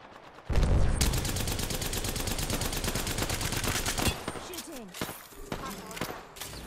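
Rapid, continuous gunfire in the video game Apex Legends, with dense repeated shots lasting several seconds and then a few scattered bursts, loud and close, with a voice talking near the end.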